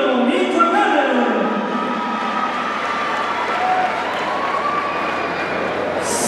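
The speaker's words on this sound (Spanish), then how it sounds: "Quiero que le den un fuerte aplauso" Crowd applause and cheering at a jaripeo rodeo in an arena, a broad, sustained roar of clapping heard from a distance with an announcer's voice faintly over it.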